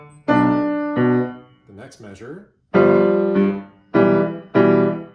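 Short, punchy piano chords from a duet in an adult level-one piano book ring close and loud, two before and three after a brief spoken phrase.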